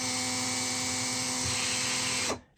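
An unused 2008 Makita drill runs with a steady, thin high-pitched whine and faint motor hum, close up, then winds down and stops near the end.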